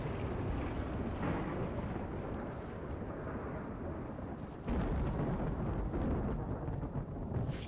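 A flash storm rumbles in RimWorld, a steady low roar of thunder and wind that holds for several seconds and then swells louder and stays heavy.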